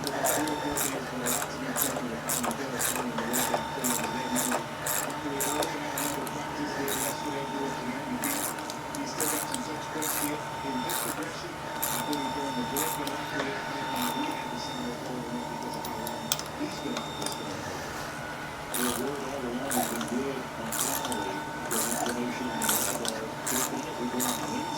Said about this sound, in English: I'm gonna go through and torque everything in a minute.